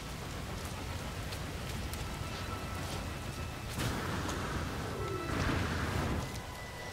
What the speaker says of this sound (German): Ey, hier regnet es aber auch nur,